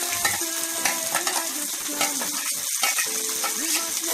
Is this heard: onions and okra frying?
yes